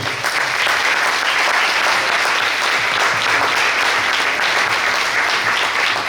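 An audience at a university psychology faculty welcome event claps for the faculty dean, a loud, thick, continuous round of applause from many people that holds steady from start to finish.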